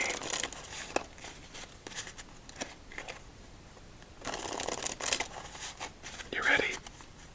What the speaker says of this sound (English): let's give this deck 2 more shuffles